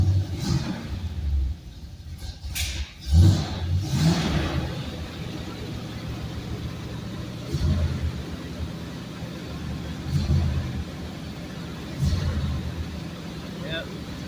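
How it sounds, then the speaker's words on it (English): A 1972 Chevrolet Corvette Targa engine idles high with a steady low rumble under ongoing talk, with a few brief louder bursts near the start. "Kind of sounds like the idle might be set a little high on the car."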